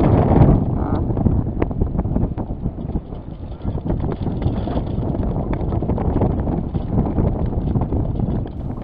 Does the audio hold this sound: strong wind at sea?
yes